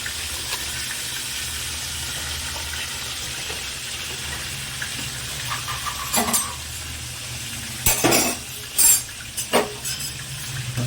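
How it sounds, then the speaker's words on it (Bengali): Bhola fish go into a boiling, simmering curry, with a steady bubbling sizzle and a few louder splashes and clatters near the end as the fish are poured in, close and without talk. "ভোলা মাছের ঝোল ফুটে গেছে, এবার মাছগুলো আস্তে করে ঢেলে দেবো।"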